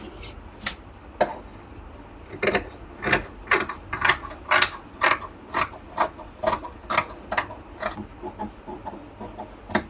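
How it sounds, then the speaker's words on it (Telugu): Scissors cut blouse fabric along marked lines for a princess-cut blouse, making a string of crisp, close snips in an uneven rhythm, sparse at first and then coming quickly one after another, with no talking. "ఇప్పుడు ఈ మార్కింగ్ అన్నిటిని కట్ చేసుకుందాము."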